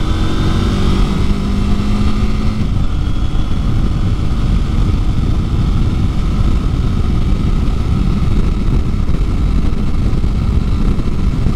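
A CFMoto 800NK motorcycle engine hums steadily during a road ride, loud and close with wind rush, the tone shifting slightly early on and then holding an even drone.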